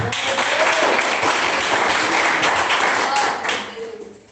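A church congregation claps during a sermon, giving a loud, dense burst of hand clapping for about three and a half seconds that then quickly tapers away.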